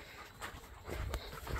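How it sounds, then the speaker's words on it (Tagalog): A small dog pants in quick, soft breaths, close by and fairly faint, outdoors on an island trail into dense brush and forest, with no talk over it. "ang liit ng aso"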